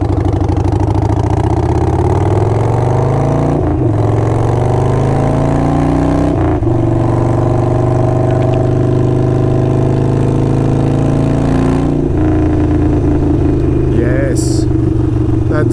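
Harley-Davidson Sportster 48 fitted with a Kinetic 540 Laterals exhaust pulls hard through the gears, its loud, steady V-twin rumble climbing in pitch with brief drops at each shift while a rider speaks over it.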